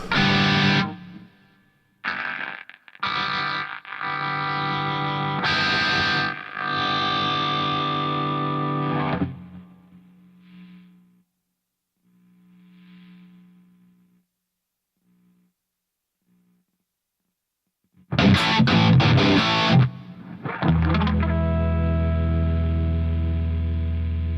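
Distorted electric guitar through a noise gate in the Positive Grid Bias FX iOS app, loud chopped chords that cut off abruptly into silence, a few faint gated notes, then heavy strummed chords return.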